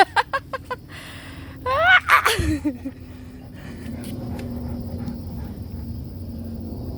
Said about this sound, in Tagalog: Yung ibon, lalapit-lapit pa.